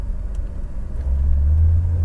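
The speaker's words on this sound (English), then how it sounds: "We're gonna accelerate this car now." A 1970 Mercedes-Benz 300SEL 6.3 (W109) sedan pulls away under acceleration, its deep engine rumble swelling louder and heavier partway through, with no voices.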